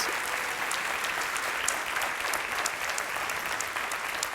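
Congregation applauding loudly during a church sermon, a dense, steady roar of many hands clapping together, continuous and even throughout with no speech over it.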